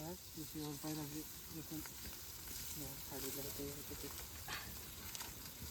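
Chicken frying in oil outdoors in a forest, a faint steady sizzle under several people talking nearby in Marathi, with occasional stirring clinks.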